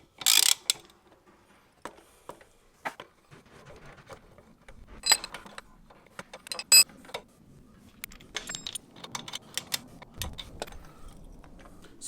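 Mechanical threads of a KUGOO M4 PRO e-scooter shock absorber part being turned back in by hand, giving sparse close ratcheting clicks and small metallic clatters spread over quiet room tone.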